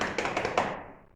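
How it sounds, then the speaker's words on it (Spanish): Hands slap the thighs several times in a quick, uneven burst of close, soft-edged thumps that fade away, with no voices. "cuando golpeamos nuestras piernas suena así"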